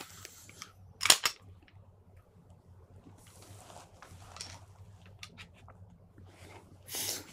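Pistol magazine seated and slide or bolt closing during a firearm malfunction-clearing drill, two sharp metallic clacks close together near the start, then quieter handling clicks and a final rattle.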